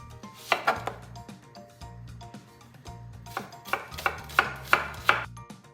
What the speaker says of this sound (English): Two yellow onions sliced thin while the oil is heating